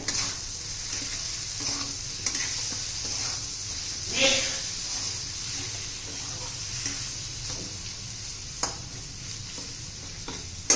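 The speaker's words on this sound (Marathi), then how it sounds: "आता सर्व आपण व्यवस्थित मिक्स करूया." A spatula stirs a dry bitter gourd (karela) stir-fry in an uncovered pan, giving continuous soft sizzling with scraping strokes and a few louder clinks close up.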